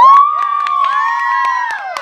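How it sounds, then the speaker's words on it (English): Children's excited cheering and shouting, bright high voices overlapping loudly and close, with scattered claps popping through for about two seconds. "let's have a round of applause."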